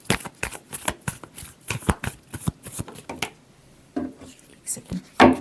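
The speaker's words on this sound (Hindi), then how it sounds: "Last shuffle." Tarot cards are shuffled by hand in a quick run of crisp riffling slaps and flutters, close and fairly loud, with a short lull midway and a final sharp burst.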